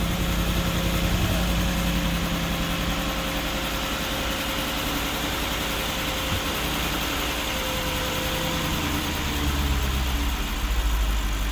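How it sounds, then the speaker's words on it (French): An Audi RS6 Performance C7 with the 4.0 biturbo V8 idles steadily after an oil change, a continuous even engine drone with no revving, close and alone throughout. "Alors on va laisser tourner 30 secondes, le temps que le filtre à huile se remplisse."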